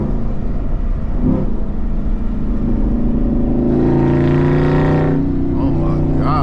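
Loud engine roar from a car, likely a Camaro SS or widebody Scat Pack, driven at night with the windows down, a steady rumble that swells louder near the end.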